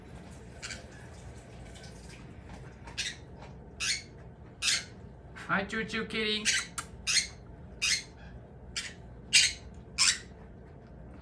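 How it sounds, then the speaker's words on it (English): Birds calling outdoors, with repeated short chirps and squawks spread through the clip, fairly close and moderately loud, while a person speaks briefly over them. "She's watching the birds."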